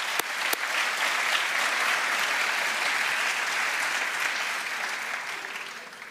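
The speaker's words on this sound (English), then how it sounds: "I'd like to give you all a round of applause" Sustained applause from a large audience at an MBA and EMBA graduation ceremony, steady and full for about six seconds and tapering slightly at the end, with no speech over it.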